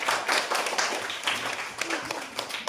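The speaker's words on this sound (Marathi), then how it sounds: "एकदा जोरदार सर्वांनी टाळ्या वाजवायच्या" Students in a classroom clapping for a classmate after a game, a loose burst of overlapping handclaps that carries on through the whole clip at moderate volume.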